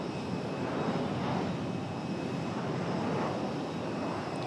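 An Aer Lingus airliner comes in to land at Raleigh-Durham International, a steady broad engine roar that holds even and fairly loud throughout, with no voices.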